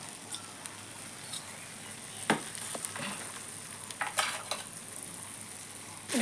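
Jujube pickle frying in a pan after jaggery is added, giving a faint, steady sizzle with a few brief stirring scrapes and clatters.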